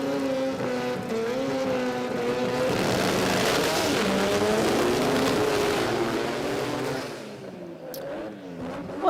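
RX2 rallycross race car accelerating hard on a track, a loud sustained engine roar with rising revs and slight wheelspin, fading after about seven seconds, with a faint voice over it.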